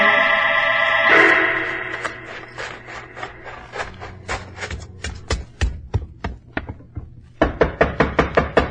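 Someone raps on a cemetery gate door in a 1949 Sherlock Holmes drama, a long run of sharp, close knocks that starts over a fading musical sting, then slows and speeds up again.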